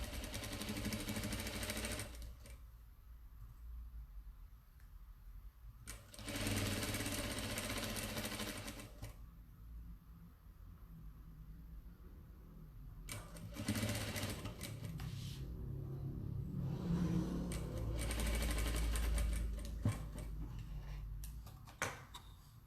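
A sewing machine stitches a kaleidoscope table runner in bursts of steady whirring, with pauses where the fabric is repositioned between runs and soft handling noises in the gaps.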